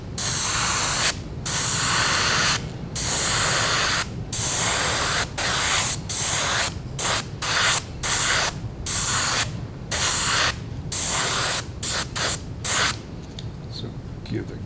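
Color-shift paint is sprayed onto a crappie lure in repeated close, loud hissing bursts of an aerosol can, about a dozen pulses of varying length separated by brief gaps.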